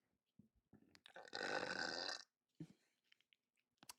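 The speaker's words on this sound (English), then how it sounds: "Sorry, I need to burp again." A man lets out one long, loud burp in a quiet indoor setting, bracketed by faint mouth clicks and breaths.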